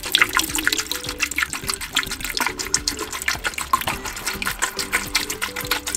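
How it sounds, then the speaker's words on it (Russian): Water pours steadily into the tank of a Xiaomi Mi Smart Antibacterial Humidifier, a continuous splashing gush that runs the whole time at moderate, close volume, with a faint tonal background underneath. "И сейчас вы можете залить вот сюда, вот в этот бойлерочек воды."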